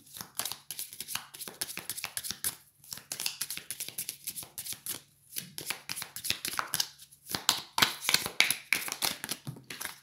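Tarot cards being shuffled by hand up close, a run of quick papery riffles and soft taps in uneven bursts with short pauses, no talk.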